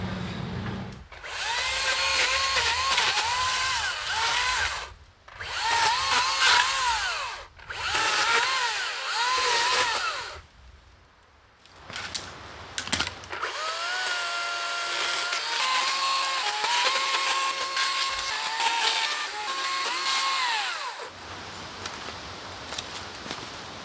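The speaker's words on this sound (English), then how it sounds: "After a bit more chainsaw work, I finished the clearing" A chainsaw revs in repeated loud bursts with short pauses between them, then settles into a longer steady whine while lower tree branches are cut to clear space.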